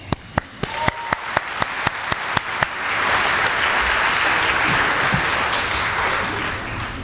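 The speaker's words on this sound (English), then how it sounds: "Let's give them a round of applause" A school audience applauds the 2023 senior class at an awards ceremony: about a dozen sharp claps ring out first, then a dense, steady wave of applause swells and holds loudly to the end.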